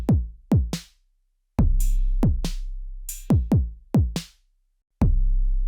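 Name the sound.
drum machine pattern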